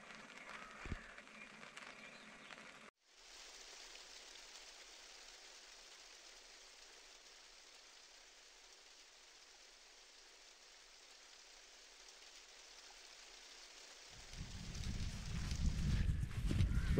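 Rain falls outdoors in Buxton in June as a steady, soft hiss. It lasts most of the clip, then a louder, rumbling noise swells in at the end.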